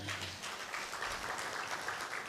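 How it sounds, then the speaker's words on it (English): Workshop attendees give a fairly faint, steady round of applause, with hands clapping evenly throughout and no voices on top. "A round of applause for them."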